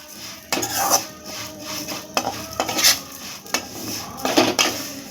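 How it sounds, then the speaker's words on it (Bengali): Semai vermicelli fries in ghee in a pan while a spoon stirs it in repeated bursts, with metallic scrapes and clinks against the pan over a soft sizzle, close and without talk. "এইভাবে নেড়ে নেড়ে নেড়ে নেড়ে ভাজতে হবে"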